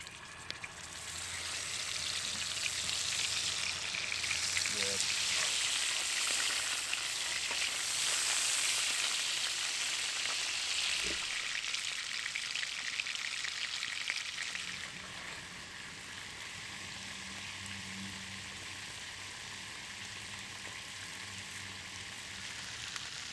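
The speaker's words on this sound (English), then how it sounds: "It is now time to start cooking up these burgers." Cheese-stuffed half-pound beef burgers frying in a pan at a rainy spring campsite, a loud steady sizzle running throughout and easing slightly in the last third, with no talking.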